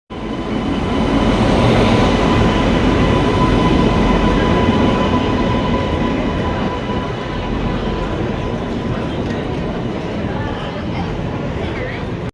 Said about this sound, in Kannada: ಈಗ ನಮ್ಮ ಟ್ರೈನ್ ಹೋದಾಯ್ತು, ಫುಲ್ ಹೋದೈತಿ ಈಗ.